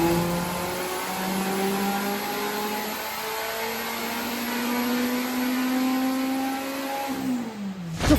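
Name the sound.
Renault 5 engine idling high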